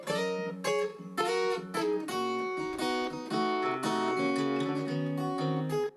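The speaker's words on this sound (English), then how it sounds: "that's the Rode microphone that was on the camera I was using." Acoustic guitar strummed and picked in a bright chord progression, recorded through a Rode camera-mounted microphone, with a slightly roomy, close sound; no voices.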